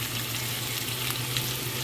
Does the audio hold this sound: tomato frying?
yes